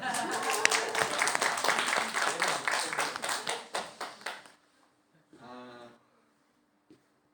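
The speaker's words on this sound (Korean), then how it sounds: "기왕에 나왔으니 박수 한번 쳐야 되죠." A church congregation claps during a Sunday sermon. The clapping is a dense, steady burst of many hands for several seconds, then it thins out and stops. A short voice follows in the quiet.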